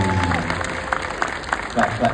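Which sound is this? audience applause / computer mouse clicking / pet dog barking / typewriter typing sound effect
audience applause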